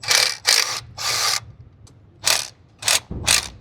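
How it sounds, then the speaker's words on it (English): A ratchet wrench backs out 10 mm bolts holding down the EGR cooler on a 2019 Dodge 6.7L Cummins, giving several short, loud bursts of fast clicking separated by brief pauses, close up and with no talk. "Next, we're going to remove the 2 10 mil bolts that are holding the EGR cooler down."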